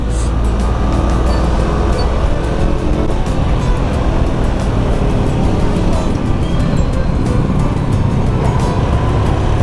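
Steady, loud road traffic rumble from inside a vehicle stuck in slow traffic on the way to a barangay fiesta, with a continuous low engine drone and no breaks throughout.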